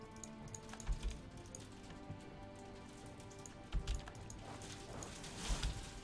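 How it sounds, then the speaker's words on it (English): Rain splattering against a window indoors, a soft, steady patter of drops with occasional heavier splats and faint low thuds, quiet and continuous with no voices. "If you can hear that, that's the rain splattering against my window."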